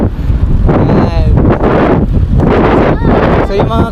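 Heavy wind buffets the microphone during a road cycling ride in Tarlac, Philippines, a loud continuous rumbling roar that surges and dips throughout, with faint bits of voice underneath.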